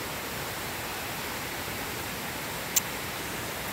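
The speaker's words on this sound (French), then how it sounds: "je vais vous montrer la descente de la cascade" A small waterfall cascade at Mortain-Bocage in Normandy, a steady even rush of falling water throughout, with one brief sharp click near the end.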